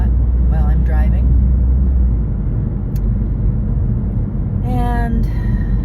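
Car interior while driving: a constant low engine and road rumble fills the cabin, with faint brief tones on top.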